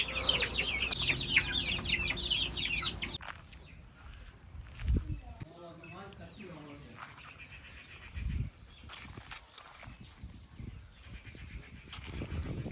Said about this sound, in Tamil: கொண்டு போய் குஞ்சுகள் கட்டி விட்டோம்னா அதோட கொத்தி சாப்பிட்டுக்கிட்டு இருக்குது.